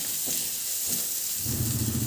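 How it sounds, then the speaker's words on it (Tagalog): Garlic sautéing in a pan of reduced cooking oil gives a soft, steady sizzle and hiss, swelling louder near the end as the frying picks up. "igisa ko na yung bawang"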